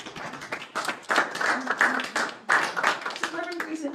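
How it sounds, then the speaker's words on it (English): Audience applause for a 99-year-old Negro Leagues legend at a Juneteenth celebration, with a burst of clapping mixed with cheering voices, swelling and dipping in waves, close and fairly loud. "I think he deserves a round of applause"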